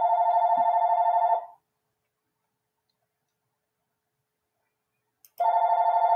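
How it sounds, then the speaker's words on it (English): Old telephone ringing in a home kitchen, a loud electronic ring lasting over a second, then several seconds of silence before the next ring starts. "don't worry about the phone ringing."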